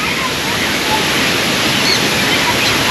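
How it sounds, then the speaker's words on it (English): Steady, full rush of falling water from a waterfall in a bird park's wetland area, a dense even roar with no breaks, fairly close and loud throughout. "Brilliant waterfall."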